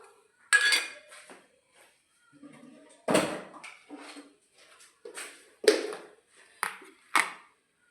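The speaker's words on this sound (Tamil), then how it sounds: "இதோட நம்ம வறுத்து வச்சுருக்க பெருங்காய பொடியை நம்ம இதோட கலந்துடலாம்." A spoon clinks and scrapes against a pot as roasted asafoetida powder is stirred into a parupu lentil dish. Several sharp, separate clanks come at uneven intervals, with softer scraping between them and no talking.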